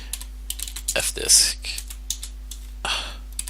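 Commands typed on a computer keyboard while setting up an LVM volume on Linux, quick bursts of close clicky keystrokes with pauses, someone speaking briefly over them.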